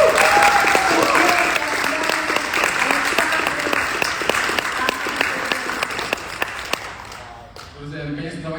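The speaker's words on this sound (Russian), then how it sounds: "So Вот let's это give очень занимается a big господин applause to Lucilla" An audience applauds for Lucilla at an event in Antalya, sustained dense clapping that gradually thins and fades out near the end, with no talking over it.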